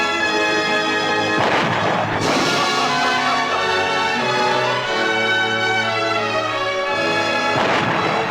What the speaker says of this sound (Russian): Заряжай другую пушку!